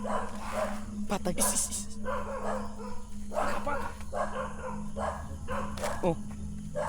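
A dog barks several times at a steady pace, moderately near, while voices talk over a constant low hum.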